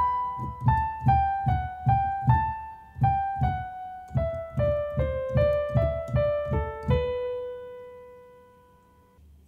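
The Howl's Moving Castle melody played alone on a pitched instrument, roughly twenty evenly paced plucked notes with sharp attacks and short decays that step up and down before ending on a sustained fading tone.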